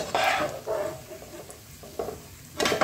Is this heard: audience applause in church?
no